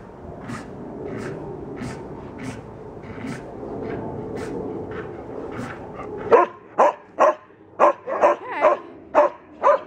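Several dogs, a girl named Gracie and a puppy among them, give a run of sharp, loud barks close by, about eight or nine in quick succession. A faint murmur and light scratching come first.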